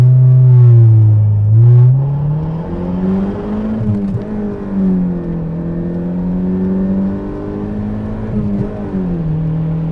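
Mercedes 4.2 liter V8 car accelerating hard from a standstill, a loud close engine drone rising in pitch through several gear changes across ten seconds.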